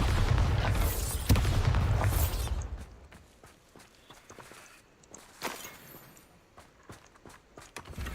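Bombarda spell blast in Hogwarts Legacy, a loud booming explosion with heavy low rumble in the first couple of seconds, then fading into quieter debris clatter and scattered footsteps.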